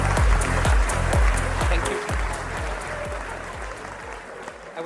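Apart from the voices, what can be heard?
audience applause welcoming panel moderator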